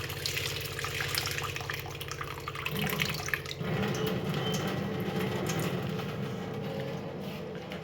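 Water runs steadily from a tap to soak chickpeas for birds, a continuous splashing and gurgling flow that shifts in tone partway through.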